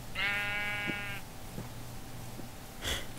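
A sheep in a Minecraft modpack gives a single clear bleat near the start, followed by quiet game ambience with small clicks and a short brighter sound near the end.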